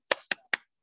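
Three sharp, evenly spaced hand claps from a teacher leading a classroom clap chant in an online grade 4 math lesson, close and crisp with short pauses between them.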